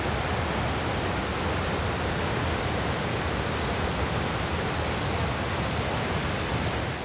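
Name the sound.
rushing river water in Colombia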